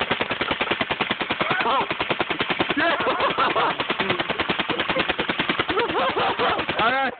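A paintball gun fires a long string of rapid, popping shots at a backyard target, the rhythmic bursts loud and close while people talk briefly over them.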